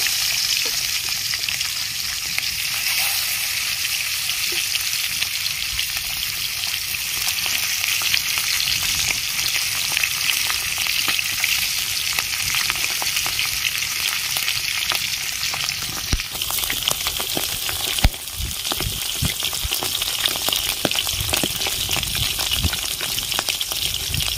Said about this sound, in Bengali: কড়াইয়ের তেল গরম হয়ে গেছে, এবার আমি মাছগুলো ভেজে নেব